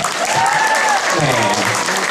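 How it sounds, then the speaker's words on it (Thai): An audience at a flower extravaganza anniversary event claps steadily for an elderly woman, the dense applause filling the space while voices carry over it. "ขอเสียงปรบมือให้แม่อุ้ยหนะครับ"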